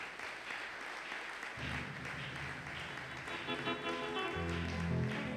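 Church congregation applauding during a Sunday thanksgiving service, a steady wash of clapping throughout that swells slightly, with a faint tonal musical backdrop underneath.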